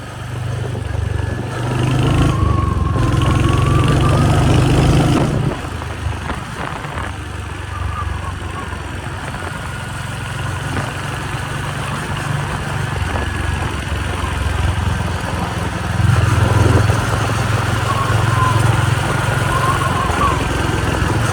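A Hunter 350 motorcycle ridden at night across a bridge in Chandannagar gives a steady, loud engine drone with wind rush, swelling briefly at the start and again near the end.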